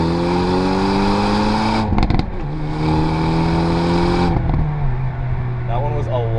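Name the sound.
2024 Hyundai Elantra N launching with wheel spin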